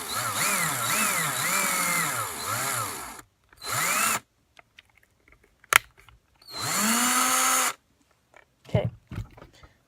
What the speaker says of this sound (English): take your drill and then drill a hole in it.